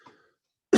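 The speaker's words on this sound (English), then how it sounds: "I'm so sorry for the coughing, guys." A single sharp cough bursts out close and loud at the very end, after a faint breath and near silence.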